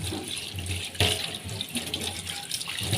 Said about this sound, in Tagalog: para hindi na dumami ang hugasan, hugasan na po natin